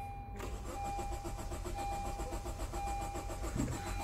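A car engine with a flashing immobilizer light cranks and catches while the brake is pressed, then runs with a steady mid-pitched hum up close, with a faint electronic tone underneath.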